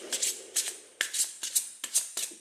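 Tarot cards being shuffled by hand, several quick riffling bursts in an uneven rhythm, close and fairly soft with no talking.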